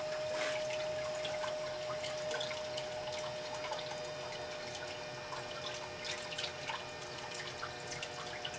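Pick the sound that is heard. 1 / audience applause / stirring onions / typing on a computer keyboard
1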